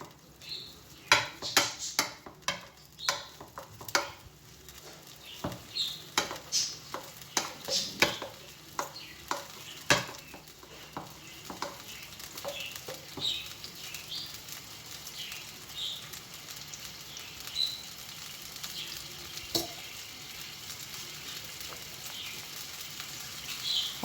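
Tomatoes and onions fry and get stirred in a pan, with repeated clinks and scrapes of a spoon against the metal over a steady sizzle, close and moderately loud.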